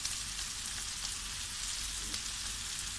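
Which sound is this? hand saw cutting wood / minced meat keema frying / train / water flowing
minced meat keema frying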